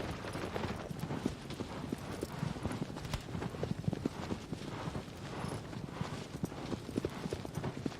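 A horse's hooves in Shadow of the Colossus beat in a fast, steady clip-clop gallop throughout, close and continuous over game ambience.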